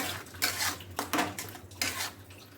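Chicken masala roasting in a pan, stirred with a metal spoon that clanks and scrapes against the pan in quick repeated strokes over a faint sizzle, close by and alone.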